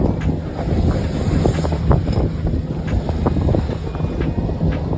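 Gusty wind buffets the microphone while choppy waves slap and splash against the hull of a Lagoon 440 sailing catamaran off Maine, steady and close throughout.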